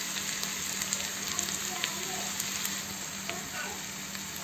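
Onions frying in a pan while being stirred, a steady broadband sizzle with occasional scrapes and clinks throughout, close and even, with no talk.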